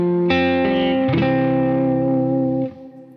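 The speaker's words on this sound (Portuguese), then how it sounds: "Esse é o primeiro reverb, né? Um room, onde eu faço as minhas bases." An electric guitar played through a room-type reverb pedal on a pedalboard, a few strummed chords ringing loudly with a distorted, sustained tone and a short reverb tail as the final chord fades.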